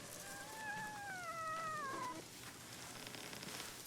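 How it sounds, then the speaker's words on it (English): A fox in Ghost of Tsushima gives a soft, drawn-out whining yip while being petted, a single wavering call heard alone over quiet game ambience. "Pet the fox."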